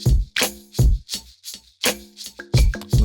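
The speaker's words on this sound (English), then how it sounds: "This is what our drums sound like." Lo-fi drum beat with extra random percussion added, heard alone: steady kick and snare pattern with small pitched percussion hits and taps filling the gaps.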